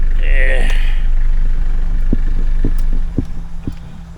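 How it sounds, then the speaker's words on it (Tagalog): A motorcycle engine idles with a low steady hum for about three seconds, then is switched off and the rumble drops away, leaving a few faint clicks and a speaking voice afterward. "patayin na po yung makina"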